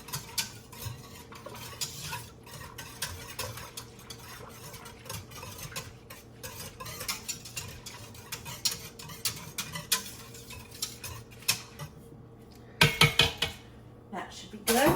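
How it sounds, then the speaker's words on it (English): A whisk beats yogurt in a pot, giving quick rhythmic metallic clinks and scraping against the sides for the whole stretch, close up, with a few louder clatters near the end. "I'm gonna just get my whisk and just whisk it together."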